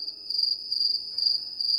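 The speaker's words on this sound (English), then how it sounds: "All I hear right now is crickets." Steady, high-pitched cricket chirping pulses continuously, fairly close and clear, with a faint low hum underneath and no voices.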